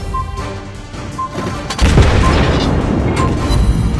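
A torpedo strikes an enemy ship in a naval video game, landing as a heavy, loud boom partway through, followed by a sustained rumbling crash and debris noise over a busy game background.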